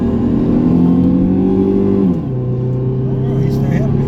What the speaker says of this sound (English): We're flooring it already.